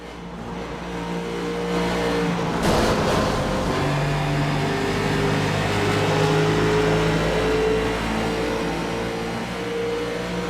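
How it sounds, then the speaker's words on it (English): Onboard race car engine in the iRacing sim game, a steady loud drone with layered harmonic tones that rise and fall through gear changes and a brief burst of extra noise near the third second, with no voices. "Engine note, let's listen to this and figure out what he did down towards turn number 3"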